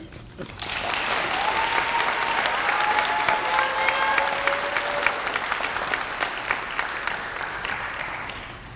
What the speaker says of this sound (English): Let's give a round of applause to all of our student speakers this morning.